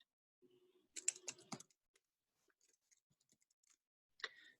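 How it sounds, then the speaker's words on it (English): Computer keyboard typing during an online provider Q&A session on staying connected, a dense burst of quick key clicks followed by scattered faint taps and a brief second flurry, close and quiet with no talking. "And as Carolyn's typing"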